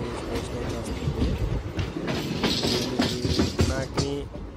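The Pinakini Superfast Express runs on the rails near Kavali, heard as a loud continuous rumble with rhythmic clickety-clack from the wheels, recorded close from inside or beside the coaches.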